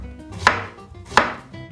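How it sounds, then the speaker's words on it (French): A knife slicing a courgette into rounds on a cutting board, two crisp chops about 0.7 seconds apart, close and clear with no talking. "Et on coupe en rondelles."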